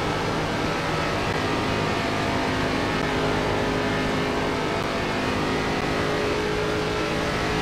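ARCA race cars roar around the Atlanta oval in iRacing, a steady, dense engine drone from the cockpit with other cars surging past, loud and unbroken throughout.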